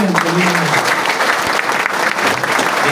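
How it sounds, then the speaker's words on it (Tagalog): An audience applauds loudly with continuous, dense clapping that fills the whole short stretch, with a voice faintly mixed in. "Ito lang, kung saan ka pumapalakpak sa 21 years"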